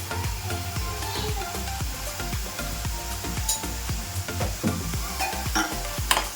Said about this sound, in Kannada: ಚೆನ್ನಾಗಿ ಇದನ್ನು ಮಸಾಲೆಯಲ್ಲಿರುವಂಥ ಹಸಿ ವಾಸನೆ ಎಲ್ಲ ಹೋಗೋ ರೀತಿ ಫ್ರೈ ಮಾಡ್ಕೊತಾ ಇದ್ದೀನಿ